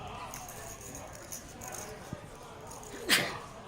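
A single sharp sneeze bursts out near the end, loud and close, following a stretch of quiet background murmur and a few soft knocks at a live no-limit hold'em poker cash game table.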